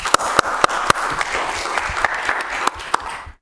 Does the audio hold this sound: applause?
yes